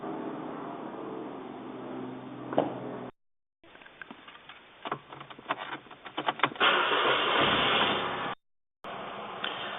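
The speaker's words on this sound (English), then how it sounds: "I'm going to come back into the car and it should start." A car engine cranks and starts after a battery fix, sputtering bursts building into a steady running rumble, with a couple of brief dropouts, moderately near and without talk.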